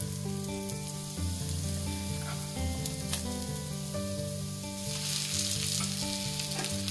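Potatoes and onions fry together in a pan for a bread potato roll filling, giving a steady, continuous sizzle with background music throughout.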